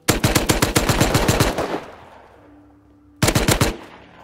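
Gunfire in the survival game Rust: a rapid close burst of about a dozen shots, a short pause with a faint tone, then a second quicker burst.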